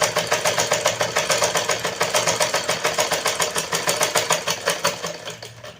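A sewing machine stitches a straight seam in fabric, a fast, even, close mechanical rattle of needle strokes that runs steadily and slows near the end.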